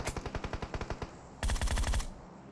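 Rapid automatic gunfire in a PUBG Mobile firefight rattles out in two quick bursts, the first a sharp even stutter and the second a louder, heavier burst after a short pause.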